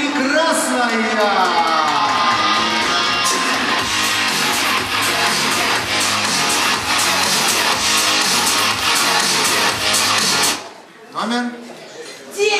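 An audience cheers, whoops and applauds loudly for a contestant walking up at a bard-song contest draw, a dense sustained roar of voices and clapping that stops abruptly, with talk after it.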